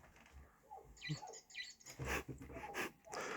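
A squeaking toy bird inside a small toy house that gets shaken in a kitchen gives a few short, high, close squeaks amid light rustling and knocking, with no voices.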